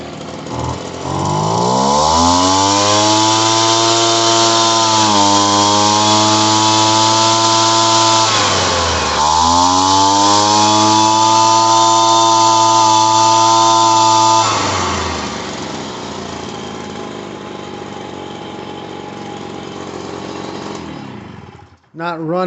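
Shindaiwa EB240 leaf blower engine running after a carburetor and fuel line repair: a loud, close two-stroke drone that revs up and dips twice, then idles down and cuts out.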